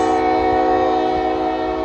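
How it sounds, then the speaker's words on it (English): A CSX locomotive with EC40 DC units sounds a loud, sustained horn blast close by, a steady chord over low rumbling near swampy ground. "CSX EC40 DCs coming in."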